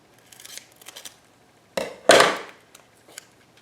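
Scissors snip through packing tape image transfer labels in two sharp close cuts, the second louder and longer, with a few faint rustles of handling before and after.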